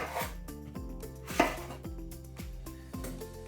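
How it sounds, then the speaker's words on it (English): A knife coarsely chops apples for cider on a board, giving a series of sharp, regular thuds about every half second, close and clear, with ringing resonance after each strike and no talking. "Step 2 then is to coarsely chop the apples."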